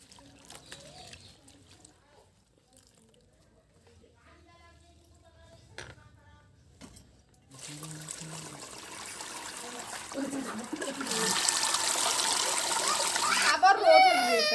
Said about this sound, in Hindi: अब मैं भाजी धो लेता हूँ।